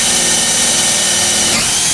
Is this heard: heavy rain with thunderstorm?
no